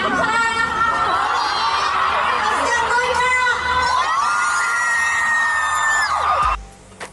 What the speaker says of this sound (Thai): ก็คือกรี๊ดกันลั่นหอกันเลยทีเดียว